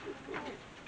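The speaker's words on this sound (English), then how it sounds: "a look at the breeding birds, just so you can see some of the antics" Breeding pigeons in a loft give a brief, soft coo, faint and close, with little else around.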